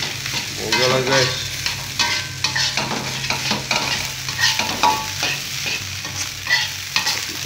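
Nasi goreng frying in a pan over high heat, a constant sizzle broken by repeated scraping and stirring strokes, close up, with no talking.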